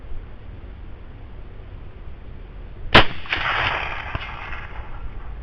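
A rifle shot cracks out once, loud and close, at night during a long-range test of a Photon RT 4.5 scope on targets at 200 to 300 yards, followed by a brief echoing rumble and a fainter later report.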